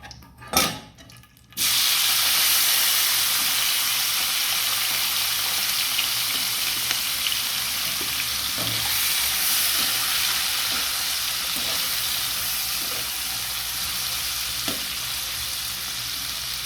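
Onion and green chili frying in hot oil, a steady loud sizzle that starts after a brief clatter and keeps going evenly, with faint stirring taps.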